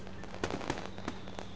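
Fireworks crackle and pop in a quick burst of sharp bangs over a low steady hum, from the visual novel game Katawa Shoujo; moderately loud and brief.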